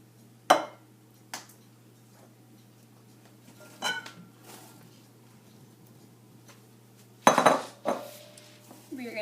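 Apples being tossed with a cinnamon-sugar mixture in a bowl for caramel apple pie. A few sharp clinks and scrapes from the spoon against the bowl come in scattered bursts over a low steady hum, with no talking.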